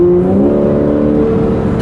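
A Porsche 911 Carrera engine hums steadily at a sustained rev, loud and close, with a smooth even drone and no voices over it.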